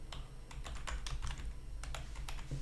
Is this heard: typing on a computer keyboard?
yes